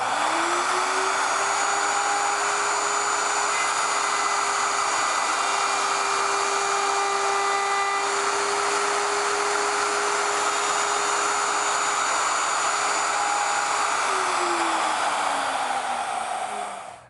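A router cuts a tenon board clamped in a Porter-Cable Omnijig dovetail jig, its steady high whine holding loud and close as it makes one pass and then the return pass, then spinning down at the end.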